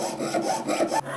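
A jeweler's fretsaw blade cuts through a handmade ring in a steady back-and-forth rasping rhythm, close and moderately loud, with a short break near the end before the strokes resume.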